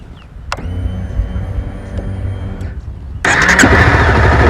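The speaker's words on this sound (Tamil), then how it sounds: "பைக்கை ஸ்டார்ட் பண்ணிக்கோங்க." A starter whirs for a couple of seconds, then a Honda CBR 250R motorcycle engine catches and roars into a loud, steady idle close by.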